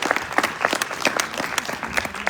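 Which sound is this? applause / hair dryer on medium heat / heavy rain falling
applause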